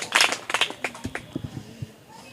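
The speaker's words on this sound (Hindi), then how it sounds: "तालियां इनके लिए" Quick bursts of clapping greet a quiz contestant's correct answer at a general knowledge competition, sharp and close at first, then thinning out as voices talk over the end.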